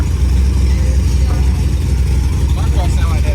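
A classic car's engine idles at an outdoor car meet, with a heavy, steady low rumble close by and people talking over it.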